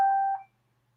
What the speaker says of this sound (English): I can hear something beeping.